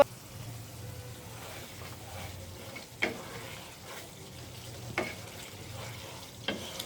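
Pumpkin and fish curry simmering and frying in a pan, a steady soft sizzle with a few sharp clinks of stirring, no water pour standing out clearly.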